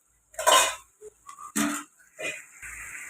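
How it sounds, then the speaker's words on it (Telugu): Tomato puree going into a pan of fried plantain curry: a few short clinking, scraping bursts of a spoon against the pan, close and moderately loud, with brief pauses between. "ఇప్పుడు టమాటా ప్యూరీ వేసుకుందాం."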